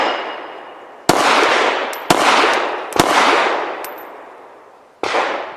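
A Full Conceal M3D folding pistol fires from a Glock 19 magazine at an outdoor range. Four loud, sharp shots come at uneven intervals, each followed by a long decaying echo, with no talking.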